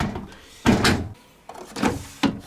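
Detergent drawer of a 2013 Beko WMP511W 5kg slim-depth washing machine being handled: several plastic slides and clunks, close and fairly loud, spaced out over a couple of seconds with quiet gaps between.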